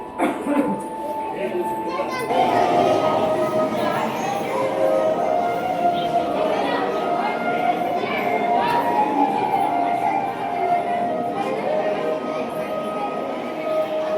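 Dense crowd chatter from many visitors fills a tribal museum in Naya Raipur, with children's voices, overlapping talk and occasional clinks blending into a continuous indoor murmur.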